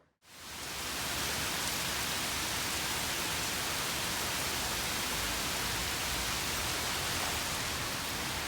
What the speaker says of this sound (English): What the hell is all this rain about?